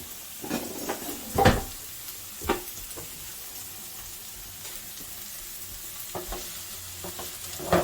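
Food sizzles softly in a non-stick pot on a home stove while a utensil clacks and scrapes against it in scattered strokes. No one speaks.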